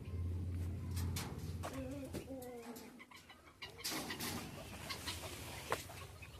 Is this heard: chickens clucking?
yes